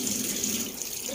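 Water pouring steadily from a tap into a cooking pot, a close, continuous rushing splash that holds level for the brief moment without any talk.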